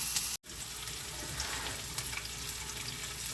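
Onions hiss and sizzle steadily in a hot pan, a dense close frying noise broken by one brief cut near the start, with no talking.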